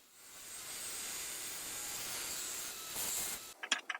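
Steady hand rasping or filing on knife handle scales, a continuous close scraping hiss that swells slightly near the end and breaks into a few short scrapes.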